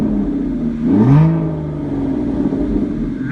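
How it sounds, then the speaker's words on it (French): Naturally aspirated V12 of an Aston Martin GT revving once, a rising and falling engine swell near one second over a steady idle rumble, heard alone without talk. "Le V12 atmosphérique, fantastique."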